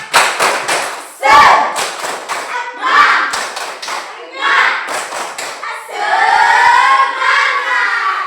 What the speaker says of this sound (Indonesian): marilah kita tepuk semangat. Tepuk semangat.